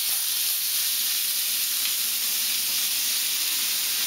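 London broil steak sears in a pan of butter after being flipped with tongs, a steady, loud, even sizzle and hiss holding throughout with no talking.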